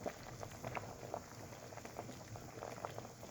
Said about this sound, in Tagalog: Malapit na siyang maluto. Kasi, 30 minutes ko nang pinakukuluan eh.